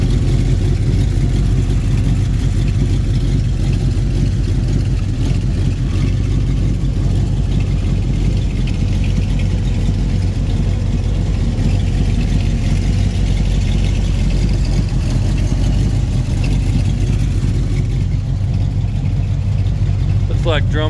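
A 1957 Chevy 3100 Stepside pickup idles with a deep, steady exhaust rumble, close and loud throughout, with a low, even engine note and no revving.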